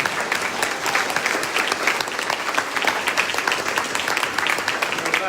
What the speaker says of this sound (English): I'm going to ask you to give him a round of applause